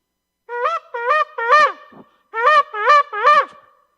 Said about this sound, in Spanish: Luego tenemos un sonido que se llama shevarim.